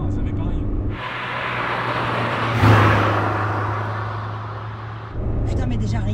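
Honda Civic ED7 engine revving hard through second and third gears, a loud, sustained roar with a rising pitch around the middle before easing off, heard up close from inside the car.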